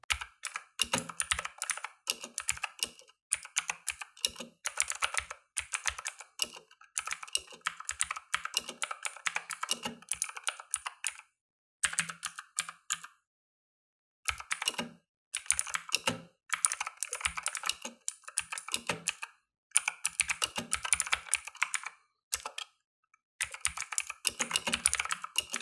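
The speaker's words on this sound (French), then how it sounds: "le son que cela fait pendant une saisie avec ce clavier" Rapid clacky keystrokes on an AUKEY KM-G12 mechanical gaming keyboard, typed in bursts with short pauses between, close and fairly quiet, no voices.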